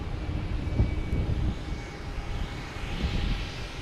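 A private jet at Logan Airport gives off a steady low engine rumble with a faint high whine, heard from a distance throughout.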